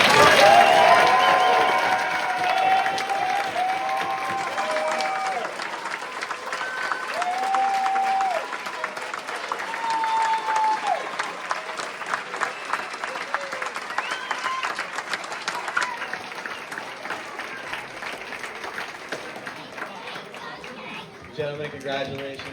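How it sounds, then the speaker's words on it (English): Crowd at a high school band recognition event gives band directors a long round of applause, dense clapping loudest at the start and sustained throughout. "So can we please give them a thunderous round of applause?"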